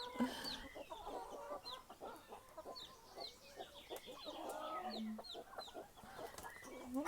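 Chickens cluck continuously around a newly built coop for freshly hatched chicks, with overlapping close calls and chirps in a busy, steady flock chatter and no talk.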